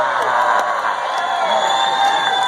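A concert crowd cheers at an outdoor show at Chateau Ste. Michelle, Washington. The sustained roar and whoops are loud and fairly close, with no break over the short stretch.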